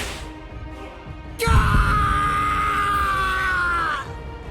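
A man screams in pain in the anime fighting game Bleach: Rebirth of Souls, a loud, strained cry that bursts in suddenly and holds steady for a few seconds over game music before breaking off.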